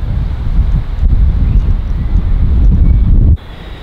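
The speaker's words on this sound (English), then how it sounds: "Wind is off of the left, it's sort of sheltered around here" Wind gusts across an outdoor golf course, a loud, steady low roar buffeting the microphone for several seconds before abruptly easing near the end.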